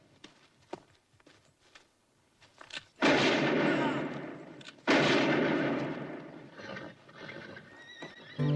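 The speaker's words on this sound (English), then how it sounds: "Watts shoots him in both arms and a leg before shooting him twice in the torso." Two loud gunshots ring out a couple of seconds apart in a Western film scene, each with a long echoing decay, after scattered light clicks and movement, with horse sounds in the scene.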